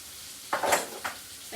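Garlic sizzles in a pan and a utensil scrapes through it in two quick stirring strokes, close and moderately loud over a soft background.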